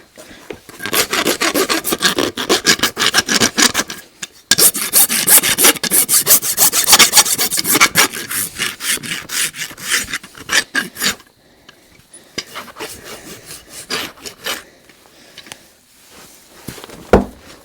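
A rasp filing a draft horse's hoof while it is shod, long rough scraping strokes repeated in a fast, steady rhythm, loud and close, with brief pauses between runs of strokes.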